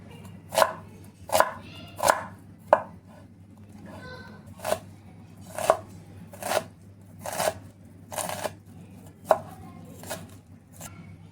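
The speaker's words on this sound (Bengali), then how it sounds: "একটা মিডিয়াম সাইজের পেঁয়াজ নিয়েছি, এটাও কুচি করে নেব।" A medium-sized onion is chopped with a knife on a board, about a dozen distinct close thuds at an irregular pace, with slicing rustles between them over a low steady background hum.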